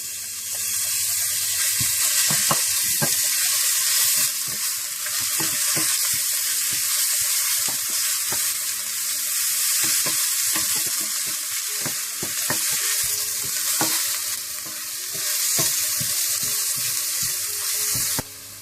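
Ground ginger-garlic paste fries in a pan with onions for keema samosa filling, producing a bright, continuous hiss that runs throughout, with scattered stirring clicks and taps close by.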